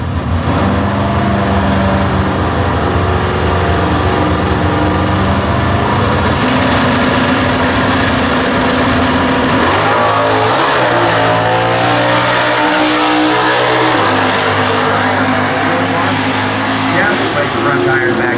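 Factory stock drag race cars, including a 2010 Dodge Challenger, roar down the strip at a national event, loud engines revving and shifting through rising and falling tones, with an announcer talking over the noise.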